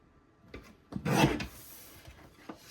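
Paper is trimmed into smaller scrapbook mats, one close rasping swipe of a cutter blade along the sheet, a second or so long, between faint handling taps.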